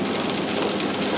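Rain falls on an isolated highway, a brief, steady, close hiss of drops hitting the surface with no voices.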